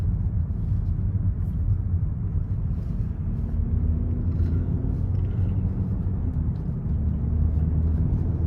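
A 2017 Mercedes-Benz GLE 350 4MATIC SUV with a 3.5 V6 and 7-speed gearbox accelerating, heard from inside as a steady low engine rumble with a rising tone, no talking.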